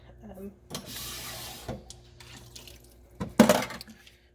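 Running water splashes into a sink in short bursts, with a louder rush near the end, while voices murmur in the background.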